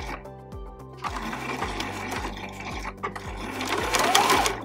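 A sewing machine stitches fabric strips together for a tiny dollhouse mini quilt, running close and steady with a rhythmic mechanical thump throughout.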